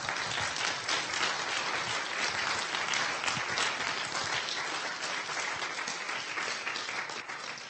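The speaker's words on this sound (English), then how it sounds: "I wanted to start with a round of applause for the hard work" A dense crowd applauds continuously, a thick even wash of clapping that holds steady for several seconds before tapering slightly at the end.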